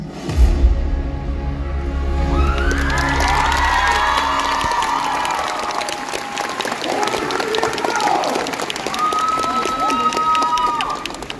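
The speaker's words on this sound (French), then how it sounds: "j'ai vu beaucoup trop de gens crier pour son nom" Crowd cheering and shouting at a cosplay competition show at Japan Expo 2024, a loud sustained roar of many voices with whoops and applause that carries steadily throughout.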